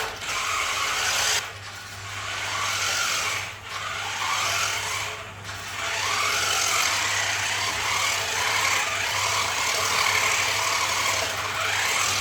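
Upgraded cheap BigW remote control car, boosted from 3.7 V to 7.6 V, whirring steadily as it climbs a concrete driveway, a constant high motor and gear buzz with brief dips, fairly close and alone.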